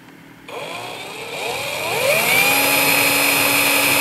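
An electric drill drives a rotary ball bearing and marble lifter, whining up after a quiet start and rising in pitch as it speeds up, then holding a steady loud motor tone.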